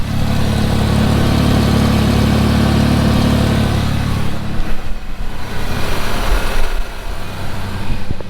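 Ford Ranger 3.0 V6 engine idling after an oil change, a steady low rumble that runs loud and even before thinning out partway through, with no one talking.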